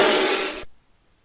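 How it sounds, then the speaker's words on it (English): A Lamborghini drive-by sound effect: a single loud, broad rushing whoosh that holds for just over half a second and then cuts off sharply to silence. "I want the car, the Lamborghini, to drive by."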